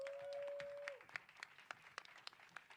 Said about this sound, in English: I want you to give a round of applause to Council Member Cindy Bass